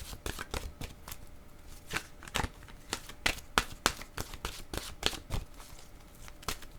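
Oracle cards being shuffled by hand, a quick run of sharp papery riffles and flicks close by, repeating irregularly throughout at a fairly quiet level with no talk over them.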